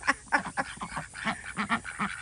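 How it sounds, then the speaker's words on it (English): Ducks quack repeatedly outdoors in the morning, a rapid series of nasal honking calls from a small flock, fairly close and clear with no talking. "Good morning, ducks."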